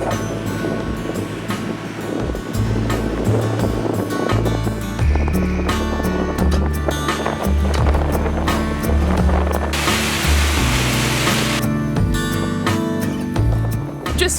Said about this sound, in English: We're walking back through the rain and the wind